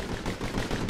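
Dueling pistols fire in the video game Bastion, a brief dense burst of rapid gunshots crackling together in under a second, no talking.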